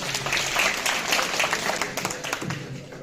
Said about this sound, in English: Election Commissioner, Mr. Muzammil Rashid, please have a clap for him.